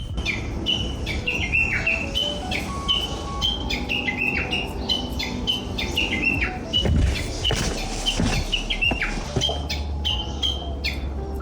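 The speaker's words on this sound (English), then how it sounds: "Hear this bird singing? He's singing his heart out." Birds chirp and tweet in quick, repeated bursts in Japan, a busy mix of high calls over a steady low rumble of background noise.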